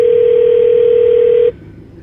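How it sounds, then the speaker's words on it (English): A single steady electronic telephone tone in a car sounds loud and unbroken for about a second and a half, then cuts off, leaving a low cabin hum. "I don't understand why it's not ringing through my car."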